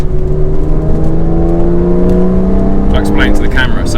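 A Speed Yellow Porsche 996 Carrera 4S with PSC exhaust back boxes drones close by as its engine revs, with steady, slowly rising harmonic tones throughout and brief voice-like sounds near the end.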